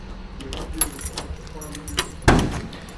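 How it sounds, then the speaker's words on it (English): A large bunch of keys jangles close up in the interior of a 1970 Buick Electra 225, light metallic clinks ending in a sharper clack, with someone talking over it. "Got a whole bunch of keys on here"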